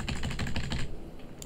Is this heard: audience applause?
no